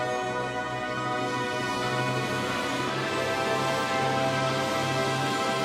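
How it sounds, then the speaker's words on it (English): Drum corps G bugles playing a sustained, full brass passage at a 1994 DCI show, a steady, fairly faint stadium sound with no talk. "That and the G bugle."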